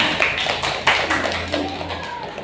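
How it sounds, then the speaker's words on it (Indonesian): Brief classroom applause for a student group after a presentation, a handful of sharp close claps that thin out quickly, with a low steady hum underneath. "tepuk tangan dulu untuk kelompok 2"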